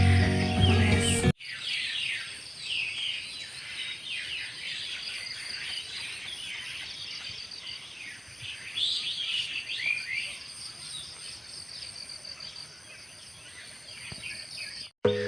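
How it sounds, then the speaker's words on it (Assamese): Morning birdsong in a flood-hit rural village in Assam: many birds chirping and trilling continuously at moderate distance, with a faint insect drone beneath and a brief knock at the start. "ইয়াত একদম চৰাই মাত ভালকৈ একদম ধুনীয়াকৈ শুনিবলৈ পোৱা যায়"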